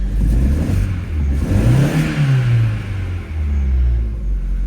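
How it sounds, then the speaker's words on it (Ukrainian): A freshly started Opel Astra H with a misfiring engine runs close by with a low rumble, rising into a rev that climbs and falls back, then settles into a steady idle. "Окей, завелася машина."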